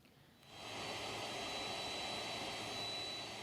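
Cargo aircraft carrying World Superbike Championship 2023 logistics at Lombok International Airport, Nusa Tenggara Barat: a steady jet engine roar swells in after a quiet moment and holds loud and constant.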